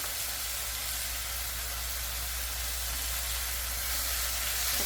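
Onions, mushrooms and vegetables for japchae stir-frying in a pan, seasoned with salt and pepper, giving a steady, even sizzle that holds at one level throughout with no voices.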